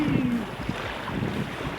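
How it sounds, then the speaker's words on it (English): Water gently sloshes off the bow of a sailing boat under way with the engine off, a soft, steady wash and trickle mixed with light wind noise and a brief tonal sound at the start. "the little sloshing of the water coming off the front of the boat"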